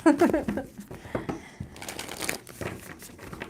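A tarot card deck is shuffled in quick riffling bursts, brisk papery flutters and clicks close by, with faint talk underneath.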